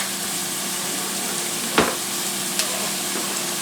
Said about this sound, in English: we're just going to toss the onions in here, let them fall apart into their own little slices